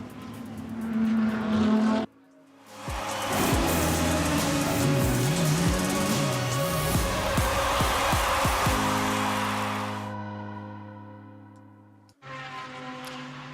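A BMW GT race car engine roars past at high revs during the 24 Hours of Spa, the pitch swooping and wavering as it passes, then fades, with a brief burst again at the end.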